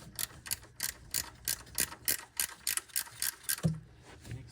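A ratchet wrench tightens the 12 mm mounting bolt on a clutch slave cylinder on an 8th-gen Honda Civic Si, giving a rapid series of close, crisp clicking strokes with a brief pause and a dull knock near the end.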